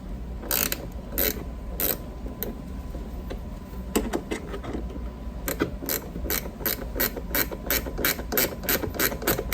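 A ratchet removes bolts from a Honda CRX rear hatch, producing a close series of sharp, rapid clicks in uneven bursts over a steady low background hum, with no talking.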